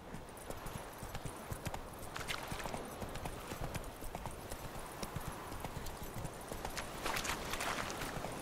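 Roach the horse galloping in The Witcher 3 video game, a fast, steady drumming of hooves over a dense rumbling background, fairly quiet overall with no voices.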